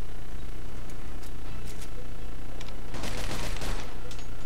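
A grease gun fires in Mafia II, short bursts of automatic gunfire cracking out near and loud over a steady background of game noise.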